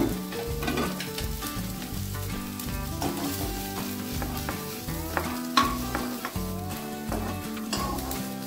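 Jute leaves crackling and sizzling in a pan, with dense stirring and scraping throughout and music playing underneath.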